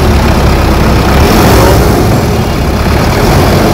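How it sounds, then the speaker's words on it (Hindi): Mercedes G-Wagon engine fitted in a BS6 Force Toofan Cruiser runs steadily with the bonnet open, a loud, close, even rumble at a constant idle with no voices over it. "चलिए मैं आपको जी वैगन इंजन की आवाज़ सुनाता हूँ। ये देखिए कितनी प्यारी आवाज़ है इस इंजन की।"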